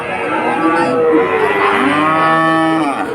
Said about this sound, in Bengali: অনেক বাছুর আছে এখানে, আমি বাছুরের এলাকায় বাছুরের দাম দেখাচ্ছি।